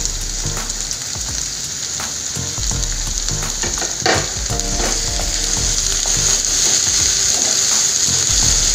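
Chopped capsicum, four green chillies and peas fry in a pan for vegetable fried rice, a loud continuous sizzle with repeated scraping and clattering stirs of a ladle against the metal, close up and without speech.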